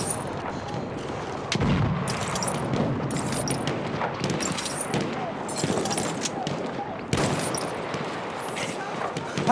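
Grenade explosions and gunfire rattle in the Battlefield 1 video game at St Quentin Scar, with repeated sharp blasts and bursts of shots over a dense battle din.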